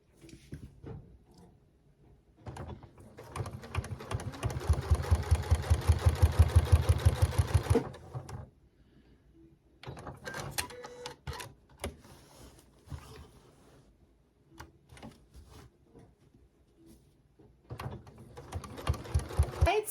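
A home sewing machine straight-stitching around a fusible appliqué mouth on a small quilt, with a loud, rapid whirring run, then shorter intermittent stitching bursts and clicks, and a final burst at the end.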